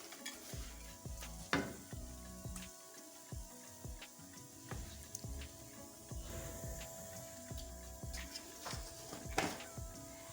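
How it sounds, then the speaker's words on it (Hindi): Flour roasts in a pan for aloe vera halwa while a spoon scrapes and stirs it steadily, with a continuous close sizzle and repeated metallic knocks against the pan. "ये देखें आटा हमारा बहुत अच्छे से भुन गया, रेड हो गया।"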